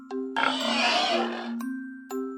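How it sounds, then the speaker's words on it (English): A pig gives one long, rough, grunting squeal close by, loud and noisy through most of its length before fading out, with no voices alongside. "Pig."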